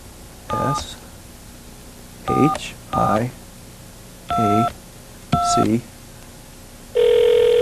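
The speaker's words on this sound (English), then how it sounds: "Okay, I dialed 1-800-4-MOSHIACH, which is Hebrew for Messiah." Touch-tone keypad dialing of a toll-free 1-800 number: short bursts of paired dual-tone beeps in an irregular rhythm, each key press distinct and close, ending in a longer steady tone as the call connects.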